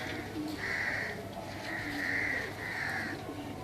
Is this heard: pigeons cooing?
yes